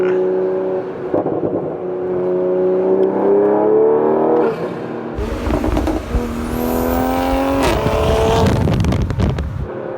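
A tuned Toyota A90 Supra accelerating hard on the road, the engine note climbing loudly through the revs, then a gear change and a rougher, louder surge with wind and cabin noise.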